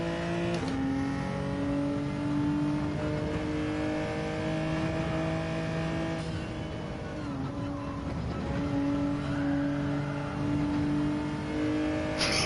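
Race car engine in a racing video game whining and shifting pitch as the car fishtails through a turn, a steady loud harmonic drone that dips briefly mid-slide, with no talk.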